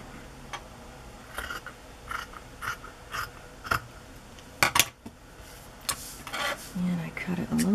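Scissors cut paper for a handmade craft project, a series of crisp close snips spaced irregularly with small handling clatter, and a voice speaks briefly between cuts.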